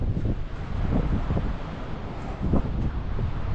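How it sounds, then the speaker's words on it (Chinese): Strong wind blows across a mountain road snowed in by heavy snow, battering a small camper van with its solar panels spread open; it is a loud, continuous roar with gusty surges and rustling. "哇，好大风啊！ 不要把我的板子吹跑了。"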